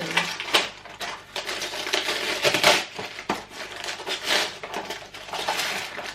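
Close, crackly paper rustling and tearing with sharp crinkles and bumps, like a paper envelope being pulled open by hand.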